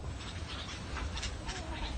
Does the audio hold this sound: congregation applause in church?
no